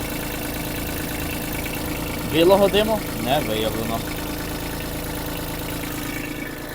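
A Kubota B-72 mini tractor engine, 16.5 horsepower, idles steadily throughout with a low, even drone, and someone speaks briefly over it midway.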